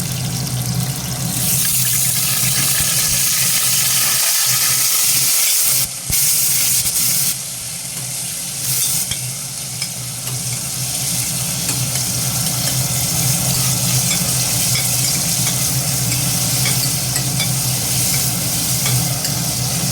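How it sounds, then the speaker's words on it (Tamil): Onions and tomatoes sauté in a pan for a village-style country chicken rasam, a steady close hiss and sizzle with occasional stirring scrapes running continuously throughout, no voices. "வெங்காயம் நல்லா வதங்கிருக்குது நம்ம தக்காளி சேர்க்கணும்"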